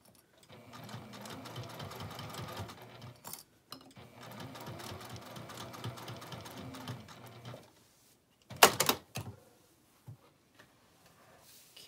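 A sewing machine top-stitches around a fabric basket in two long, steady runs of rapid mechanical whirring, close and clear, followed by a few sharp clunks and quiet handling noise.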